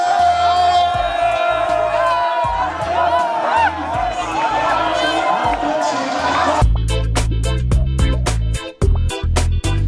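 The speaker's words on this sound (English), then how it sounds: "the mammoth crowd of supporting students who came to cheer their schools to victory" A large crowd of students shouts and cheers continuously at a school sports competition, a dense roar of voices that shifts abruptly to loud, choppy crowd noise near the end.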